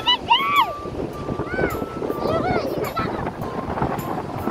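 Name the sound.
sea waves at the beach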